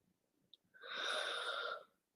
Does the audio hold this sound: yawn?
yes